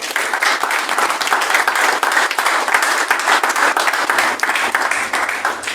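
A church congregation applauds in a steady, dense wash of clapping that holds at an even level throughout, with no voices standing out.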